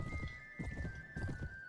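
A horse gallops through city streets in the Mount & Blade Warband video game, its hooves clip-clopping in quick, close groups with a whinny-like tone over them.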